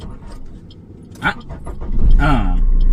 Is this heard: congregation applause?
no